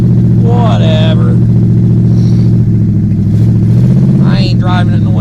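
A 1974 Plymouth Cuda with a cammed 360 V8 and four-speed idles loudly and steadily just after a cold start, with a deep, even rumble throughout. A voice comes in briefly over the engine twice.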